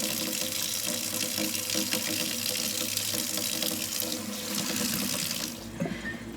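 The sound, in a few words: warm tap water running into sink for cleaning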